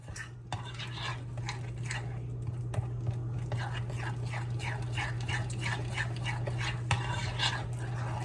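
Cornbread batter being stirred in a bowl, a soft, steady rhythmic scraping and tapping of a utensil against the bowl, quiet over a constant low hum, with faint murmuring in the background.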